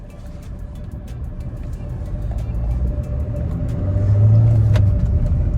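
A Mahindra XUV300 compact SUV pulls away in first gear, its engine a low rumbling drone that swells steadily louder toward the end, heard from inside the car without talk.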